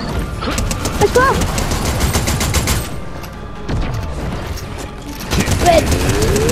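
Fortnite gunfire rattles in loud, rapid volleys of shots that run almost continuously, with brief lulls and a few sharper impacts. Voices sound faintly beneath the shooting.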